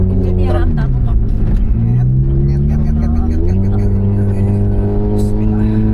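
Car engine climbs through rising revs while accelerating to overtake a truck on a narrow forest road, a steady loud drone with harmonics sweeping up and down as gears shift, with a voice talking over it.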